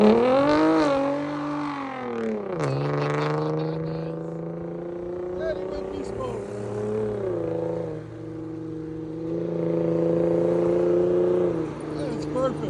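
A 2015 Hyundai Genesis Coupe with a 3.8L V6 and ISR cat-back exhaust drives off, its loud, close engine note rising and falling through gear changes and then settling into a steady drone.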